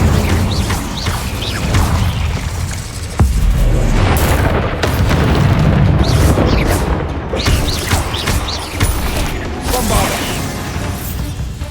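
The Incendio fire spell is cast in Hogwarts Legacy, playing as loud repeated fiery bursts and booms over continuous dense game combat noise.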